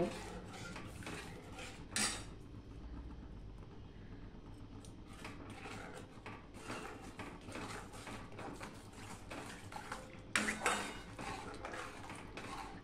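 Close, repeated scraping and light clinking of a utensil stirring powdered milk into milk and ghee in a metal pan (kadai), with a couple of louder clanks.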